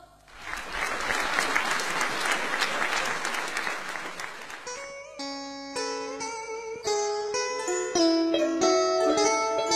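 An audience at a Vietnamese cải lương stage show claps loudly for about five seconds to welcome a singer, then the applause gives way to instrumental music with sustained tones and plucked notes.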